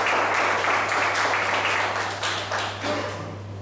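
Applause from an audience at a professional development session on dynamic communication, a loud, dense burst of many clapping hands that holds steady, then thins and fades over the last second under a constant low hum.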